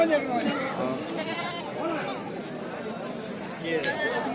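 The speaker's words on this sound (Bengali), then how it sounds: "এ কি ছাগল খাসি নাকি ভাই" Goats bleat repeatedly at a busy livestock market in Mahadevpur, Naogaon, with several calls rising over steady crowd chatter and nearby talking voices.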